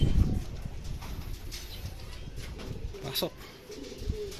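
A racing pigeon returns to its loft after a 135 km training flight in Pozorrubio, Pangasinan, with cooing and wing movement nearby while someone talks over it.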